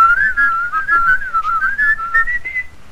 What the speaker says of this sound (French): Moi, d'habitude, quand je rentre, je siffle